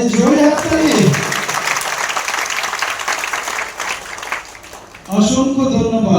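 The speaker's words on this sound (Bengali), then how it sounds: "এবারে হাততালিটা অনেক সুন্দর হয়েছে" An audience at a college meeting claps in a loud burst of applause, with voices over a microphone before and after it.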